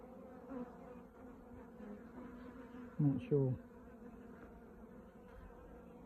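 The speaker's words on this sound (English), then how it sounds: "Bees are a bit buzzy." Honey bees hum at an open hive in a steady, low drone with a couple of louder passes close by. A person briefly speaks near the middle.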